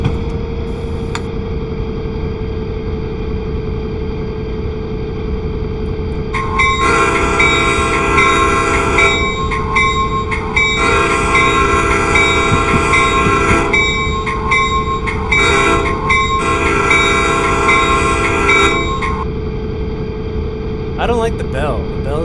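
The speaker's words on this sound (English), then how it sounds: "I don't like the bell. The bell sounds fake. It doesn't sound real." Train Simulator locomotive on a Salt Lake City route: repeated blocks of a bright, steady bell-and-horn tone start and stop abruptly over a constant low engine rumble, loud and close, with brief gaps between bursts.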